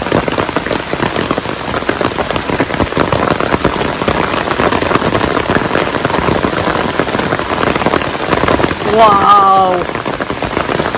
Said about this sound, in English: It's about 4:30 right now in the afternoon and it is coming down. Oh my God. Proper rain test.